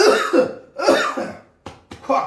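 A person coughs repeatedly and loudly up close, several harsh raspy bursts coming in quick succession.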